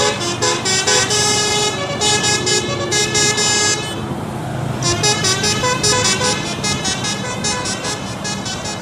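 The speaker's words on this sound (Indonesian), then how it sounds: "Wow, yang ini ada bus Keramat Jati teman-teman." A large bus rumbles past close by, its loud engine drone mixed with a bright, sustained tonal horn that cuts out briefly midway.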